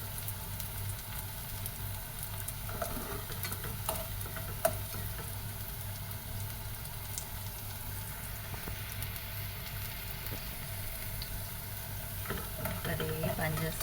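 Sugar caramelizing in a pan for a paal vazhakka dessert, a faint steady sizzle with occasional light ticks and scrapes, quiet and continuous.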